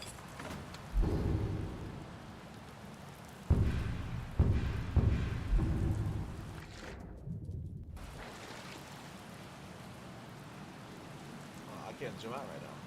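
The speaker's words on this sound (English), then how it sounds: "Get out of the rain." Rain falls steadily in a fantasy role-playing game while thunder cracks and rolls in several loud bursts, then the storm sound drops to a softer patter.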